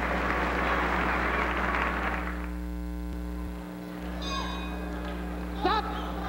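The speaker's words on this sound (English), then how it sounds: "The bell for round 2" A ring bell sounds at the start of round 2 of an amateur boxing bout between Sugar Ray Leonard and Bruce Curry. A few faint metallic strikes ring out over a heavy electrical hum and crowd noise.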